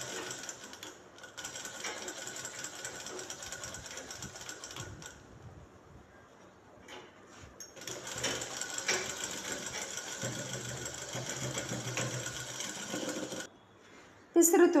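A sewing machine stitches a canvas collar piece for a shirt with a quarter-inch seam. The motor whirs in two long bursts separated by a quieter pause, close and steady.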